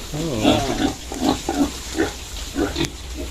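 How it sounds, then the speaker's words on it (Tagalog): Pigs on a resort farm grunting and oinking in short repeated bursts close by, with people talking at times over them. "Ah, may pigs din po."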